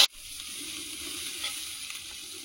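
Spices and meat fry in a little oil in a pan, sizzling in a steady, even crackle after a sharp opening clatter, close and moderately loud with no talking.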